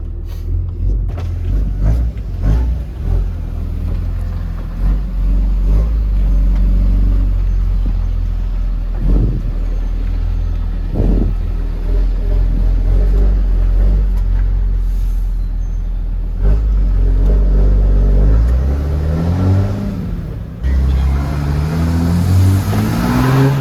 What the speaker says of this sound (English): Clutch is slipping.